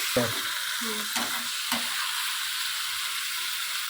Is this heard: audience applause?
no